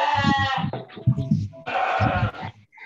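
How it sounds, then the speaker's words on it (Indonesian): Goats bleat loudly and close by in a rapid series of wavering, nasal cries, several calls overlapping in quick succession outdoors. "Suara kambingnya."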